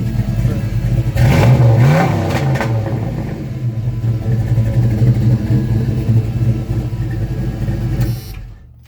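A nitrous small-block car engine revs up sharply to about 3,300 RPM, rises and falls in pitch, then settles into a loud, steady idle close by before cutting off.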